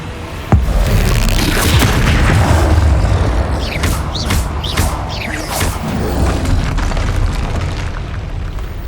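Confringo blasting spells explode in the video game Hogwarts Legacy, opening with a heavy boom followed by a run of crackling bursts and whooshing magic effects over a low rumbling backdrop.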